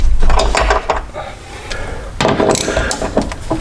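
T50 bolts come out of a BMW G80 M3 seat with a close ratcheting tool, giving loud clicking, clattering bursts and metallic rattles in two busy spells separated by a brief lull.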